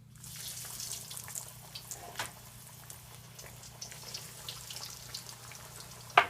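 Food pieces wrapped and dropped into hot oil fry with a steady, quiet bubbling hiss, a soft continuous sizzle with small pops and a low hum underneath, heard alone without talking.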